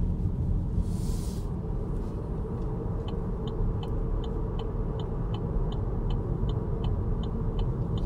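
An Opel Ampera-e electric car driving on a road, with a steady broadband tyre and road rumble throughout, near and continuous, plus faint regular high ticks in the second half.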